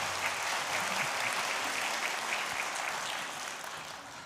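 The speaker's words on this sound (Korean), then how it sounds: "영상으로 참여하시는 예배에 참여하시는 분들께도 한번 격려의 박수 하도록 하겠습니다" A congregation at a dawn prayer service claps in encouragement, an even, moderately distant wash of applause that tapers slightly near the end.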